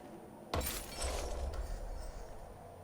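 Glass shatters in the first-person shooter Wolfenstein: The New Order, a sudden loud crash with bright tinkling fragments that trail off into a low rumbling game ambience, no talking.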